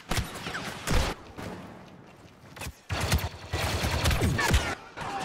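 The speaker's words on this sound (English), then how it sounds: "And I got shot in the back again." Gunshots hitting the player in a Star Wars Battlefront match come in several loud, irregular bursts of blaster fire, split by brief quieter gaps amid the noise of battle.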